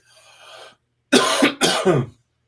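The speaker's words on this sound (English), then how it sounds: "I'm coughing" Two loud, harsh coughs from a nearby person, following a brief quieter breathy sound.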